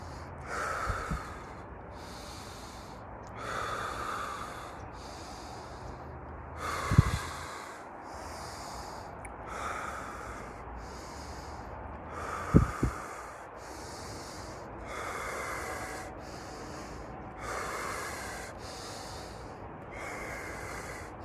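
Slow, deep breathing exercise: long rhythmic inhales and exhales repeat about every two seconds, close and fairly quiet, with two sharp louder bursts of breath partway through and no talking.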